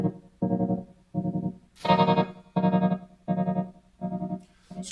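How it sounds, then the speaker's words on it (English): Electric guitar run through two combined tremolo effects, one slow and deep, heard as chopped, pulsing chords that swell and cut off in a regular rhythm, up close and loud with a distorted, chorus-like edge. "let's make the first tremolo slow and deep and see what that sounds like to combine the two of"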